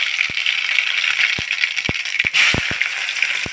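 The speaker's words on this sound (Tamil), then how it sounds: "கடுகு வெடிக்கிட்டோம்" Sharp, scattered pops and crackles over a steady hiss of hot oil, like mustard seeds bursting in a pan, irregular and close.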